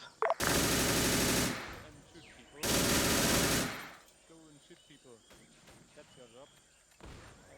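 Two long bursts of rapid machine gun fire in Arma 3, loud and sustained, separated by a short pause, followed by quieter chirping and distant battlefield ambience with faint insect-like trills.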